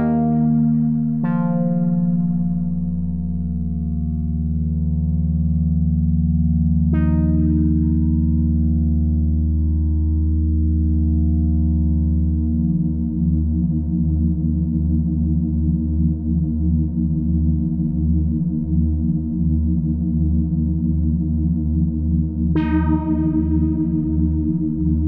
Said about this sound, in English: to give you an idea of what the Unison section does to the sound, let's turn everything down, then we'll play and adjust.